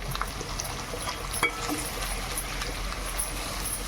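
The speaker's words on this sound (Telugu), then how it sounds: "కొంచెం వేగనిద్దాం పసుపు ఇలా అల్లం ఎల్లిగడ్డ పేస్ట్ పచ్చివాసన పోవాలి కదా" Ginger garlic paste and turmeric fry in a pan with a soft, steady bubbling sizzle, close and moderately quiet, with a brief utensil tap partway through.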